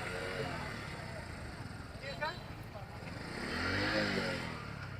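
Motorcycles are parked at a busy tourist spot in the Gabrakhali Garo hills, with an engine idling and briefly swelling nearby under people talking.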